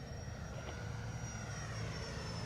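FMS Yak 130 V2 70mm RC electric ducted-fan jet flying at about half throttle, a steady faint whooshing whine with a thin high tone, no talking.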